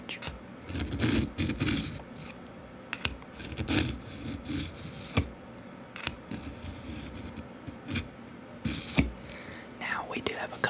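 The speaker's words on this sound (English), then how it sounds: "You run the knife down the middle and it just scrapes and it scrapes metal off each side of the blade" A knife blade is drawn repeatedly through a V-shaped metal-plate sharpener, giving close, gritty rasping scrapes in uneven strokes, with a soft voice murmuring over them.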